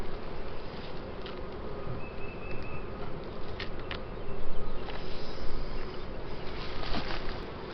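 Honey bees swarm around opened hives during a check of queen cells, a dense, steady buzz close by with faint rustles and taps in the background and no talking.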